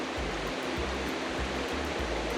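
A creek along the Arizona Highline Trail flows steadily, a dense, continuous rush of water close by with a low burbling undertone and no voices.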